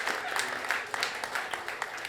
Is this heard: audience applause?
yes